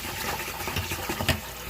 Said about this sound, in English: So I take it over here and I start rinsing my rice.